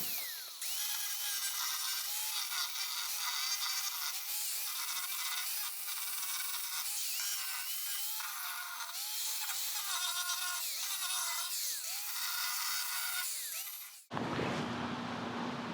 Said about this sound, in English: I went and got my grinder. I'm gonna grind this down clean a little bit.